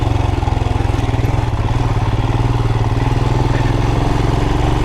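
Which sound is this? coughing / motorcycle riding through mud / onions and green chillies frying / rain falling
motorcycle riding through mud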